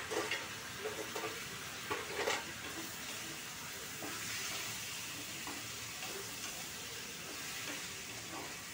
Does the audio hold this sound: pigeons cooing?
no